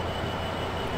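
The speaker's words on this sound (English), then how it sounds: "Amtrak Surfliner." An Amtrak Surfliner passenger train rolling through California in the Open Rails simulator, a steady, loud rumble of wheels and rail noise with no break in the sound.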